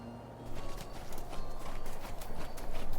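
A horse trots on a mountain trail, its hooves clip-clopping in a quick, even rhythm that grows louder and closer over the few seconds.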